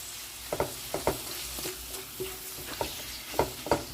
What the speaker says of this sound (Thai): ตอนนี้แม่ก็เอาลูกชิ้นปลาแล้วก็ หมูสับนะคะลงไปค่ะ เดี๋ยวเอาไปผัดกับน้ำมันที่เราเจียวเลยนะคะ